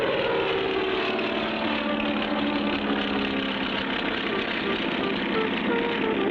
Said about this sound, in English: hop into the plane with Spinner and Paddlefoot, and speedily start on a journey